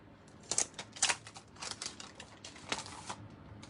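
A die cutting machine rolls a new skull and crossbones die through paper with a run of crisp clicking, crunching bursts, moderately close and fairly quiet, no talking.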